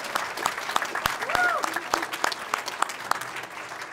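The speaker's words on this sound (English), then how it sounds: "Let's give them a big round of applause." Audience applause at a city council special meeting: a steady wash of clapping that rises slightly and holds for the whole stretch, moderately loud, with faint voices and a brief whistle-like tone mixed in.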